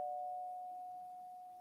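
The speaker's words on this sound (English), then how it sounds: "I have a doorbell ring, and I just get scared or chills" A single electronic doorbell chime rings as one clear, sustained tone that slowly fades, heard alone and fairly close.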